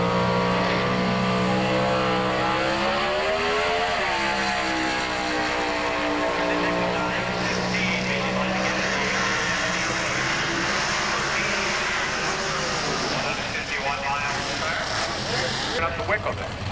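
A Chevrolet Beretta drag car with a 300 cubic inch Buick engine, at a 1990 Spring Nationals competition qualifying session, roars steadily on the starting line, a loud continuous engine drone with pitch sweeps, under an announcer talking.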